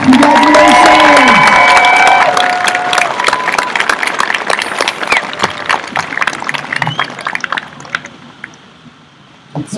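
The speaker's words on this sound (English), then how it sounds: "Let's keep a round of applause going for the class of 2021." Audience applause and cheering at an 8th grade commencement ceremony, dense clapping with whoops at first, then thinning and fading toward the end.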